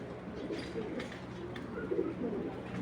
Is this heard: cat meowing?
no